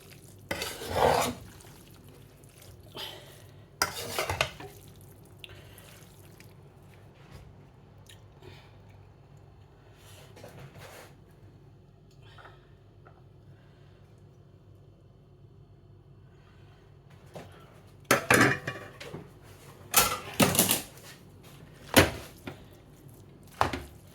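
Spaghetti being stirred and mixed in a pan, giving bursts of close scraping and clinking of a utensil against the pan around the start and again near the end, with long quiet stretches between them and no speech.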